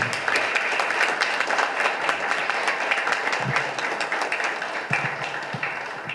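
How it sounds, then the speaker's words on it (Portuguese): An audience at a business association's board inauguration gives sustained applause, a dense, even patter of many hands clapping for over six seconds with no pause. "É uma salva de palmas aí para esses guerreiros"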